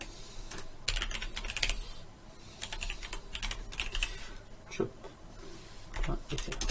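Typing on a computer keyboard, clattering in quick irregular bursts of keystrokes with brief pauses, close and fairly clear, while a person talks intermittently.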